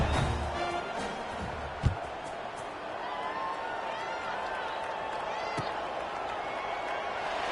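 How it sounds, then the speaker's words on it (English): Football stadium crowd at a Tulane vs New Mexico State game roaring steadily just before kickoff, a loud sustained wash of cheering with a sharp clap or thump near the two-second mark. "They're set to kick it off, and this crowd now ready to get behind them."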